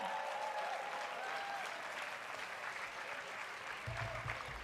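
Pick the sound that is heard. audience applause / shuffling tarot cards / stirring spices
audience applause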